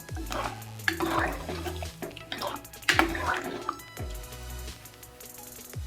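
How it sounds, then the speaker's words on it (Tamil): Water splashes and gurgles into a pot in several pours, with clinking and sloshing close by, fairly loud and steady throughout. "ஒரு 1/2 டம்ளர் தண்ணி சேர்த்துடலாம்."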